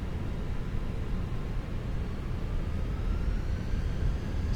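easyJet airliner engines roar in a steady, broadband rush as the jet rolls for takeoff in Microsoft Flight Simulator 2024, a constant loud drone with a faint rising whine and no talk.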